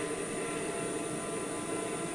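A TBM 930 turboprop engine in Microsoft Flight Simulator in flight, giving a steady, dense, continuous drone with a high whine on top, loud and unchanging with no voices.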